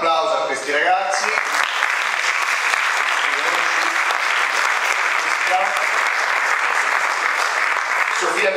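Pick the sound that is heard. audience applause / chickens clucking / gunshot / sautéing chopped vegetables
audience applause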